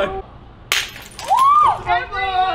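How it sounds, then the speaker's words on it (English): A small plate smashes with a sharp crack and a burst of clinking shards, heard briefly amid excited shouting and a squealing voice. "Break it! Break that plate!"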